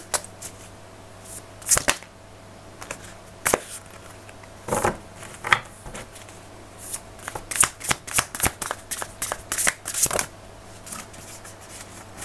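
Tarot cards shuffled during a card reading, a run of crisp riffling bursts and soft slaps that come unevenly, growing denser toward the end, close and clear with no talk.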